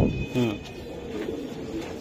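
Young racing pigeon cooing close by, a couple of soft low throaty coos over brief background noise and faint talk.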